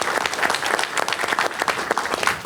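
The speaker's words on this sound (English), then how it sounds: "Can I give you a round of applause?" An audience gives a round of applause at an evening conversation event, a close, lively burst of many hands clapping with uneven, crackling texture, filling the whole short stretch.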